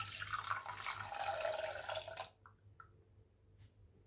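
Milk poured into a bowl of beaten eggs for pancake batter, a steady close liquid splash that stops abruptly halfway, followed by a few faint drips in near silence.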